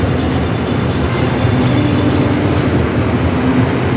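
Continuous low rumble of an LRT light rail train at a station in Manila, steady and fairly loud, with a faint tonal hum running underneath and no speech.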